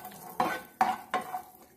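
Raisins stirred in a pan with a little fat, three soft scraping strokes of a spoon over a faint sizzle, close and quiet.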